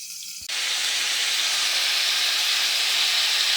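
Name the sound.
washed greens sauteing in a pan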